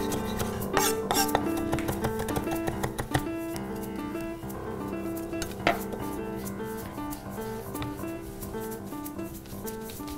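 Lamb meatball mixture with curry powder, paprika, garlic and currants is mixed in a bowl, producing steady clinking and rubbing of utensils against the dish, close and soft, with some faint background tones.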